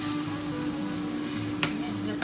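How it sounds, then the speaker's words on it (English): Food fries in hot oil, a dense close sizzle with a constant crackling hiss and one sharp pop or clink near the end, steady and loud with no voices. "Just listen to them sizzle here."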